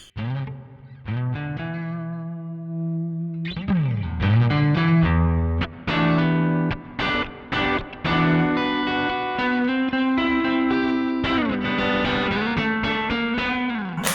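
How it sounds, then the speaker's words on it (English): An electric guitar through an all-tube overdrive pedal, played direct without an amp, with warm, gritty overdrive, playing sustained notes and then choppy chords and quick riffs, fairly loud and close. "Not loving the overdrive sound direct as much as I was through the amp."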